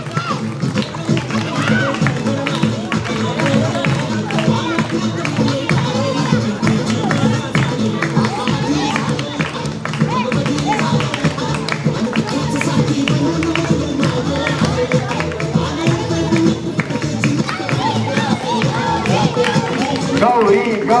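Loud, dense applause from a crowd at a primary school event, sustained and steady throughout with a busy murmur of voices and cheering mixed in.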